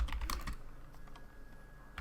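Rapid keystrokes on a computer keyboard, a quick cluster of close clicks at the start then sparser taps over two seconds, quiet and without talk.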